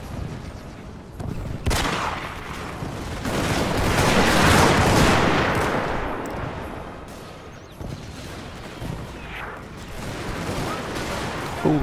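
Massed soldiers' gunfire in a Total War Steam & Steel mod battle: a continuous roaring rumble of volleys swelling and fading, punctuated by sharper individual cracks over distant battlefield noise.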